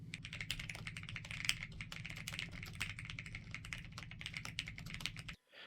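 Handwired hotswap southpaw mechanical keyboard with linear switches and no case, typed on steadily in a rapid, even patter of close keystrokes that ends abruptly.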